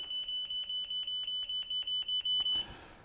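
A FNIRSI 2C53P multimeter gives a fast, steady run of short, high electronic beeps that pulse evenly for a couple of seconds, then stop, followed by a soft rustle.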